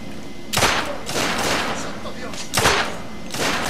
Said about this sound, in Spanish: se fallan aquí disparos a cascoporro